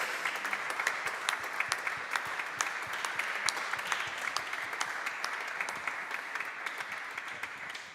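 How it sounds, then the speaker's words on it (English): Steady, dense applause from a large audience at a MotoGP team presentation for the 2026 Prima Pramac Yamaha unveiling, sustained and even throughout with crowd noise under it. "Another big applause."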